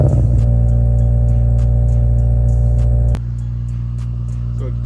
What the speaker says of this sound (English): let me go ahead and show you guys the cold start